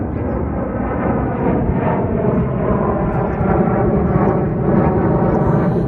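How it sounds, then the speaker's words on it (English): Fighter jets fly overhead near an Air Force base on the edge of Tucson, a steady, loud broadband engine roar that swells gently and holds throughout with no talk. "Lots of fighter planes going around."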